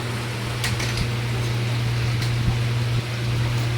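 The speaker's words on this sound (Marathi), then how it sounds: "हे बघा, आत्ता एवढ्यातच कूलर घेऊन आणले, पाणी भरलं आणि चालू केलाय बघा" A newly bought evaporative air cooler, filled with water, runs with a steady low hum and a constant broadband airflow hiss, continuous and fairly close, with faint scattered ticks and no talking.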